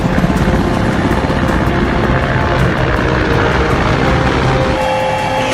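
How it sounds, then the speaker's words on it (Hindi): Several military helicopters fly together in a swarm during a Russian war exercise, their loud, steady rotor thrum and engine roar filling the air continuously and close by. "यह हेलीकॉप्टर का स्वार्म ऑपरेशन कहा जाता है।"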